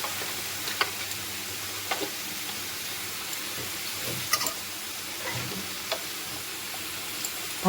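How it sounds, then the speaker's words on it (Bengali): Potatoes and onions fry in a pan with a low, steady sizzle and faint scattered clicks of stirring, and no voices. "এখানে দেখো আমার আলু পেঁয়াজগুলো ভালো করে লাল লাল করে ভাজা হয়ে গেছে"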